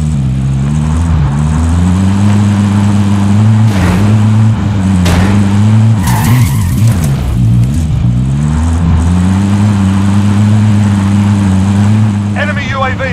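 Car engine in Call of Duty Warzone, driven under loud steady engine hum with rising and falling revs, close and continuous, briefly wavering mid-drive with a short clatter near the end.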